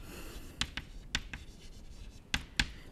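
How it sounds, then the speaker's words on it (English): Handwriting during a mathematics lecture on the Zariski topology, with faint scratching strokes and several sharp taps of the pen or chalk spaced irregularly, quiet and close, with no talking. "So let me write that down."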